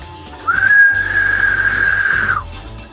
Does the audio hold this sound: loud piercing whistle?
yes